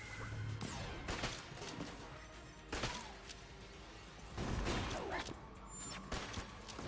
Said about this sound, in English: It seems like I'm shooting bullets instead of my hexagon rounds.